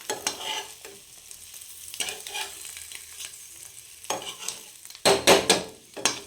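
Egg masala fry being flipped in a pan, scattered scraping stirs and soft sizzling near the mic, with a louder burst of clattering and frying toward the end.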